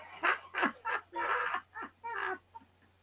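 A chicken clucks in a quick burst of about seven short squawks and clucks, close and clear against a quiet background.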